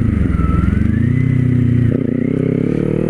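Kawasaki Z400 motorcycle ridden on a highway, a loud steady engine drone with a rising pitch as it pulls, plus wind rush and mechanical clatter close to the mic.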